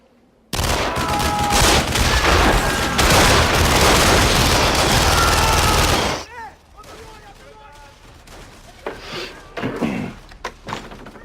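A film soundtrack carries a sustained volley of gunfire, with dense loud cracks and bangs for about five seconds that then stop abruptly, leaving scattered quieter thuds and knocks.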